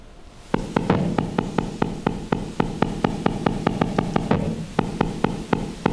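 A steady train of sharp electric clicks from an Amazon electric eel, evenly spaced pulses repeating about four times a second, loud and close with no voices.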